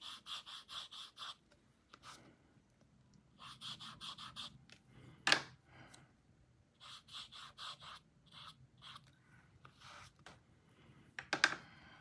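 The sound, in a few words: brush lightly rubbing on paper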